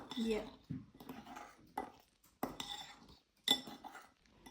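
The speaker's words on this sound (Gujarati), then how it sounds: "હવે પાછું બધું સરસ મિક્સ કરી દેવાનું" Banana bread batter is stirred in a bowl, with a spoon scraping and clinking against the sides in short bursts separated by quiet pauses.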